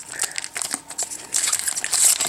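Foil wrapper of a Pokémon Burning Shadows booster pack being torn open and handled, giving a close, continuous crinkling and crackling that swells louder toward the end, with no talk.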